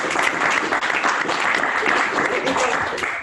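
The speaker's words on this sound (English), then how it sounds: "a round of applause, guys" Dense, continuous audience applause at a live talk event, full and close for the whole stretch, with some cheering voices blended in.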